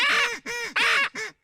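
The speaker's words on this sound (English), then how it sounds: "I can hear some birds." Several loud bird calls, harsh crow-like caws, repeat in a quick rhythm with short gaps, close and clear with no talking.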